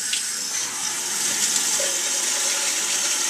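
Running water from a tap splashes steadily as it rinses a dog in a bath, a close, continuous hissing spray with no pauses.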